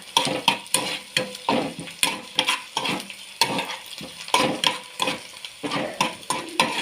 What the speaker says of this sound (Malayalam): ഇതിപ്പോൾ നമുക്ക് നന്നായി ഇളക്കി കൊടുക്കാം അത് കരിഞ്ഞൊന്നും പോകരുത്